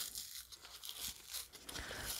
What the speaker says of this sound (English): So we'll tear this in half,